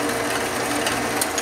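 A metal lathe takes a facing cut with the carriage held against a micrometer carriage stop, giving a steady, even machining whir with a faint rhythmic ticking and no talking.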